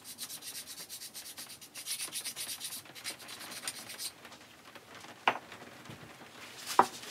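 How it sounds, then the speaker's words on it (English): Fine sharpening stone rubbing across a lathe chuck during maintenance, a soft, steady scraping rasp in short repeated strokes, close and fairly quiet, with a couple of sharp clicks near the end. "I've got a really fine stone I've used for planer blades and things like that, like honing."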